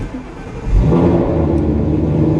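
A supercharged Ford G2 Coyote engine cranks and fires, then settles into a loud, steady idle. The close, continuous rumble runs with no talking.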